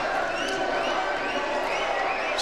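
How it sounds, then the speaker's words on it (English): Basketball arena crowd giving a sustained, even roar and cheer after a missed free throw, broad and fairly loud throughout with no distinct voices standing out. "Maybe that cheer of the crowd, the little roar, will spike these guys up"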